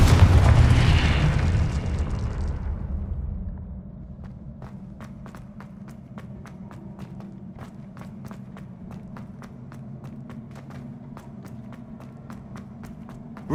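A Confringo blasting spell explodes in Hogwarts Legacy with a loud booming burst that rumbles and fades over a few seconds, followed by quiet ambience and a series of soft rhythmic footsteps.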